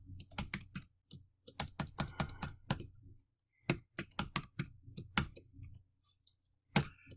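Rapid bursts of computer keyboard typing, loud and close, in uneven clusters of keystrokes separated by short pauses, with a final lone burst near the end.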